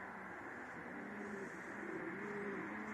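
A homing pigeon coos softly at the loft at night, faint low calls repeating over a steady background hum.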